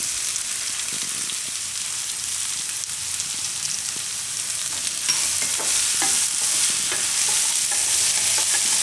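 Sprouted fenugreek cooks for pulao in a pan with salt, giving a steady close hiss. The hiss swells louder partway through, with light stirring scrapes and ticks scattered over it.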